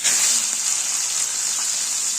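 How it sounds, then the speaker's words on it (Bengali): Prawns fry in hot refined oil in a pan, a loud, steady, close hiss and sizzle that runs without a break. "তেলটা গরম হয়ে গেছে, একে একে আমরা চিংড়ি মাছগুলো এখানে দিয়ে দেবো।"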